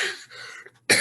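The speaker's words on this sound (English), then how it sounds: "one of these days this cough is going to go away." A person coughs close to the mic, a rough burst at the start followed by another sharp cough at the end.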